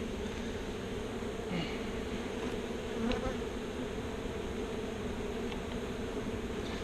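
Steady, dense buzzing of many honey bees close by around a hive, a constant drone with occasional louder passes as individual bees fly near.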